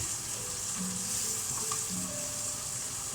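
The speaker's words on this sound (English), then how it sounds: "I'll turn that bacon over a bit, and that bacon is getting there." Bacon fries in a pan next to onions, a constant close hiss of sizzling fat with faint clinks as it is turned over.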